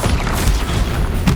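A Confringo fire spell explodes in the Hogwarts Legacy video game, a loud, dense booming blast that fills the moment with continuous rumbling energy and a sharper burst near the end.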